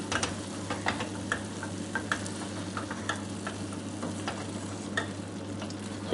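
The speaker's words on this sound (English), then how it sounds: "give it a stir in" Cauliflower and potato curry stirred in a pan after a squeeze of lemon juice, with steady frying sizzle underneath and soft scraping clicks of the spoon repeating throughout, close and fairly quiet over a constant low gas hum.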